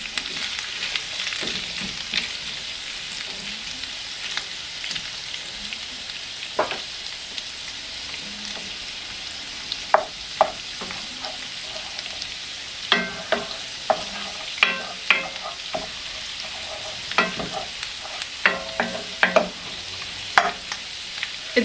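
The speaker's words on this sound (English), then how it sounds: "carrots cook so much faster in the cast iron" Carrots sizzle in a hot cast iron pan with a constant frying hiss, joined by scattered clicks and scrapes of stirring that pick up in the second half, alone without talk.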